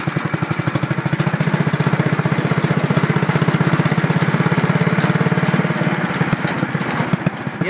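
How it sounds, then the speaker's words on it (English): A 1973 Cushman Minute Miser drives along with a loud, close, rapidly pulsing small-engine chug and constant rattling over bumps, steady throughout before easing slightly near the end. "Bumps, it sounds like an old kid's coaster wagon rattling around."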